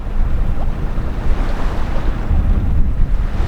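Ocean waves and strong wind at sea heard from aboard a sailboat on an open-ocean passage, a steady loud rush with deep low rumble and gusting microphone buffeting throughout, no voices.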